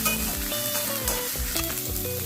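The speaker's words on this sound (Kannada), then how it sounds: "ಸ್ವಲ್ಪ ಸಾಸಿವೆ, ಸ್ವಲ್ಪ ಕರಿಬೇವಿನ ಸೊಪ್ಪು, ನೀರುಳ್ಳಿ ಚೆನ್ನಾಗಿ ಫ್ರೈ ಆಗಲಿ." Mustard seeds, curry leaves and onion frying in hot oil in a pan, with crackling sizzle and popping bursts plus stirring clinks throughout, close and continuous with no talking.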